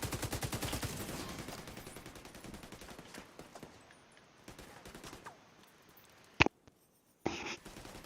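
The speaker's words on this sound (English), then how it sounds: "Heavy fire." Heavy gunfire in The Division 2: a rapid automatic burst of rattling shots fades into sparser fire, followed by a couple of sharp, louder single reports near the end, with no talk.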